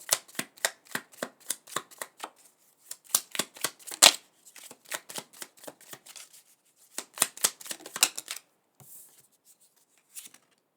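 Tarot cards are shuffled by hand in a series of quick riffling bursts, crisp and close, with short pauses between rounds and a softer rustle near the end.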